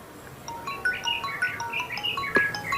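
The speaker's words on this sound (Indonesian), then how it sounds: "Telepon." A phone rings with a repeating electronic melody of bright tones, moderately quiet, over a faint background hiss.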